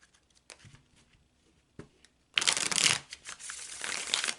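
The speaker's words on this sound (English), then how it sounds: "I'm going to take a few moments to shuffle the deck." An Ancient Italian Tarot deck is shuffled on a table. A few soft card taps come first, then a loud, dense riffling burst follows and carries on to the end, close and alone with no talk.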